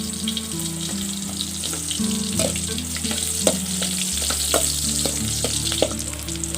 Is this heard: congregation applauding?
no